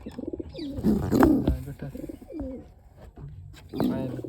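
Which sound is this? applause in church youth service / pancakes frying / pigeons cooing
pigeons cooing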